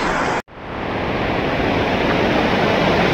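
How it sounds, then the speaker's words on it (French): Waterfall rushing beside a mountain trail, a loud steady broadband roar that drops out briefly near the start, then swells back and holds close and constant. "on passe sur la cascade en fait."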